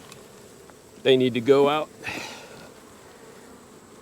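Honeybees buzz around an open hive during a hive check, a soft steady drone close by, while someone speaks briefly over it.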